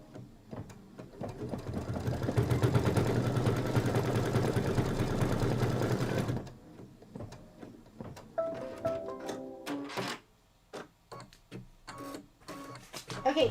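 A sewing machine stitching a Kimberbell Pumpkins & Potions quilt project, a loud, steady, rapid mechanical whir for about six seconds, then stopping, followed by quieter intermittent clicks and handling sounds.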